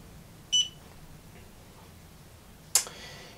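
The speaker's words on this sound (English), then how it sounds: "hold down the pair button for about 10 seconds until it beeps and then blinks" Bluetooth barcode scanner held in pairing mode gives two short, sharp electronic beeps about two seconds apart, in an otherwise quiet room.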